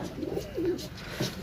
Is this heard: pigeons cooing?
yes